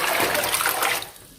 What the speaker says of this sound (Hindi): इसमें हम पानी डालते हैं।